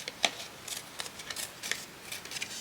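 Scrap paper torn by hand for a small handmade journal, a series of quiet, short ripping bursts at close range with brief pauses between them.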